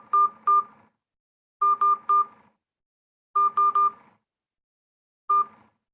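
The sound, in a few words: telephone keypad dialing tones entering meeting ID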